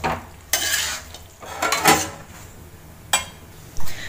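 Chicken fry stirred in a pan, with several distinct scraping bursts of a utensil against the metal over a soft background, no talking.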